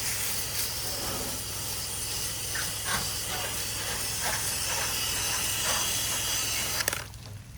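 A pressure washer sprays a house wall in a steady loud hiss, with a constant motor hum underneath, cutting off near the end.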